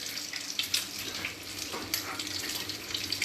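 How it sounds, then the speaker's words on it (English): A kitchen tap runs steadily during handwashing, a continuous close hiss of splashing water with small spattering variations throughout. "I'm going to wash my hands"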